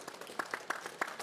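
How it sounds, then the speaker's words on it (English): Audience at a climate-action dialogue giving a round of applause for farmer Brad Doyle, heard as sparse, faint scattered claps over a short stretch. "Please give him a round of applause, everyone."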